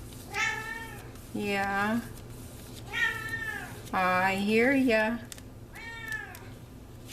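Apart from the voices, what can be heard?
pet cat Lucy meowing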